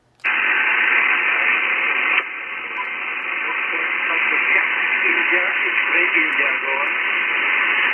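Ham radio reception on the 40-metre band: a loud, continuous band-limited hiss of static fills the whole stretch after an abrupt start, with faint garbled voice fragments buried in the noise.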